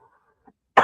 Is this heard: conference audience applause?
no